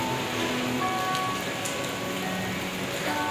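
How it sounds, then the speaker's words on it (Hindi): Heavy rain pouring down in rainy weather on the way to Banjosa Lake near Rawlakot, a dense, steady hiss that fills the whole stretch without a break and stays close and fairly loud. "बारिश बहुत तेज़ लगी हुई है।"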